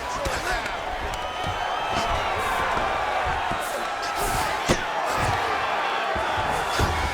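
Arena crowd at a mixed martial arts fight cheering steadily through an extended grappling exchange, a dense continuous roar with scattered sharp thuds and claps, heard over commentary.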